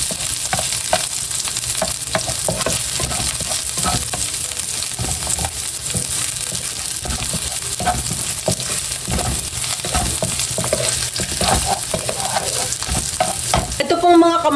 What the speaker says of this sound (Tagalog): Magigisa na po ako ngayon ng ricado.